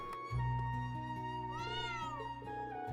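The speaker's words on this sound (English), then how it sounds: "That would be Prime, our resident cat at the Heimdall training hall." A cat meows in the video game Trails of Cold Steel IV, one drawn-out rising and falling meow over soft background music, close and clear, with no talk.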